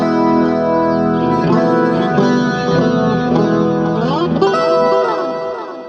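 Heavily effected electric guitar in standard tuning, through a BOSS VG-800, strums loud and dense, chorus and distortion thickening the chords, which shift steadily and fade slightly at the end.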